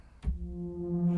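A soft synthesizer pad from the Unify plugin in FL Studio swells in after a low thump, holding a sustained warm tone that lingers steadily.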